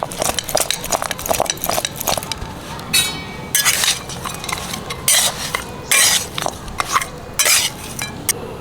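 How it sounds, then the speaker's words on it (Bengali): Mutton being mixed by hand with salt and turmeric in a metal bowl gives a run of irregular scraping and clinking strokes, close and fairly loud, with short pauses between bursts. "লবণটা দিয়ে দিলাম মেখে নেবো"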